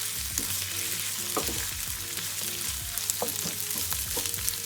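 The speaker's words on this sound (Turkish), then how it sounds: "Biraz daha salçayla kavuracağız." Pepper paste with spices, including chili flakes, cumin, black pepper, sumac and isot, frying in a pan for anchovy pilaf, giving a steady close sizzle broken by soft scraping stir strokes.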